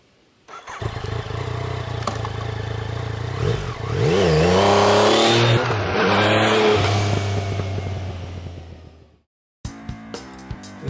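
Yamaha MT (FZ) motorcycle engine revving up hard and accelerating while riding, with rising and falling pitch as it pulls through gears, loud and close, no talk, ending with a brief pause and short blips.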